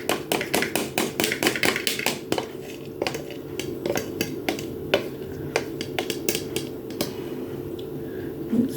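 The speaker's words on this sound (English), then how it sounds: "stir that about. And then stir it into the egg" A spoon clinks and taps against a bowl while zucchini muffin batter is stirred into egg, giving a quick run of sharp clatters at first that then thin out into scattered knocks.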